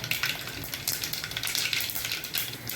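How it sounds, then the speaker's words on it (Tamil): Mustard seeds and fennel sizzle in hot oil while tempering a kuzhambu, a steady bright crackling hiss with small pops throughout, close and fairly loud with no talk over it. "இப்போ நம்ம குழம்பு தாளிச்சிக்கலாம். கடுகு சேர்த்துக்கலாம், சோம்பு சேர்த்துக்கலாம்"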